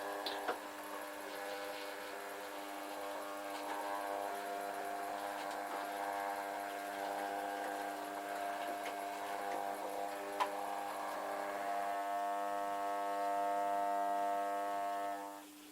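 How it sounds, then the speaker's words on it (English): A model railway controller gives off a steady, loud electrical hum with a buzzing harmonic tone, continuous and unchanging for the whole stretch with no talk over it. "But that hum is very loud."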